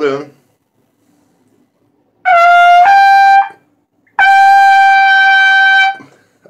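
Two strained, forced brass tones played with a rolled-in embouchure and no tongue arch, the first briefly bending up in pitch, the second held longer, both loud and alone after a short vocal bit at the start.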